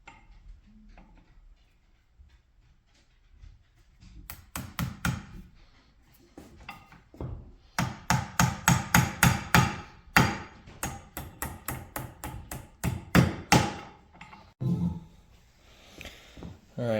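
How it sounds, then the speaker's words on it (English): A hammer taps a holdfast insole down onto a shoe last, with sparse knocks at first and then a steady run of sharp, close blows in quick rhythm, pausing briefly between bursts. "Grab your favorite hammer."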